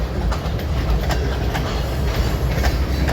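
A long, light freight train pulled north by E&LS locomotives 503 and 501 rolls past close by, with a heavy low rumble and a regular clickety-clack of wheels over rail joints.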